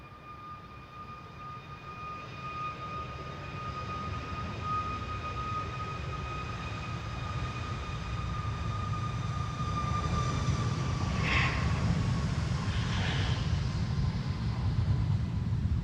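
A Lufthansa Airbus A319 departing Amsterdam Schiphol on a windy day makes a broad jet engine roar that builds steadily in loudness over the whole span, with a sustained whine on top, no talk.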